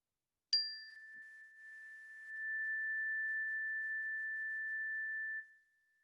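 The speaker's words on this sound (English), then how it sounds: "when you stop hearing the sound of the bell" A single meditation bell or singing bowl at the close of a children's yoga session, struck once with a bright attack, then sustaining a pure ringing tone that slowly fades to silence, heard alone.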